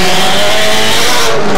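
Hot-rod race cars on the last lap of a 1996 race at the Pike roar past loudly and close, engines howling together with a hint of tire squeal in a dense, continuous wash of racing noise.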